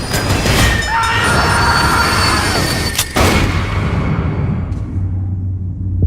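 A train runs on rails as a radio-drama effect for a murder mystery aboard the Orient Express, a loud continuous rumble with wheel squeal and clatter that thins out and fades near the end, with no voices.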